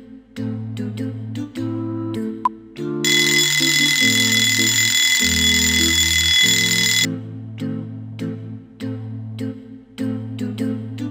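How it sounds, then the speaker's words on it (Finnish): Alarm clock in the Moomin PC game rings with a loud, bright, continuous bell for several seconds, set between stretches of plucked, melodic game music. "Meidän on saatava herätyskello käyntiin."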